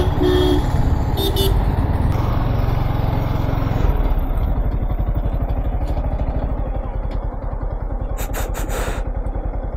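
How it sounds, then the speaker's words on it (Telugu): Heavy road traffic on the way from Kozhikode, with a continuous rumble of car and motorcycle engines and short horn toots early on and several quick honks near the end, loud and close. "ఇది ఫుల్ ట్రాఫిక్ ఉంది"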